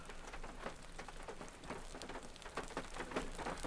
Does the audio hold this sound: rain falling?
yes